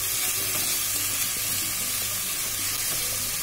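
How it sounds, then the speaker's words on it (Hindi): Ginger, garlic and green chili paste fries in a pan over a low flame, giving a dense, continuous close-up sizzle with no pauses or voices. "फ्लेम को यहाँ हम लो कर देंगे और 2 से 3 मिनट तक अच्छे से भून लेंगे"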